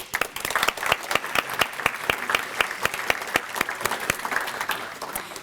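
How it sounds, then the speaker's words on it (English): Applause for volunteers at a recognition luncheon, a steady round of many hands clapping at close range, dense and sustained throughout without speech. "Applause to you."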